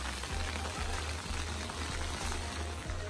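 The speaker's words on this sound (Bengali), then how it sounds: "তো তার আগে অনেক জোরে বৃষ্টি শুরু হয়ে গেছে।" Heavy rain pours down during a fishing outing in Canada, a dense, steady hiss of drops filling the whole stretch without a break, loud and close all around.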